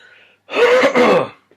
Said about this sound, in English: I'm dying with a coughing moment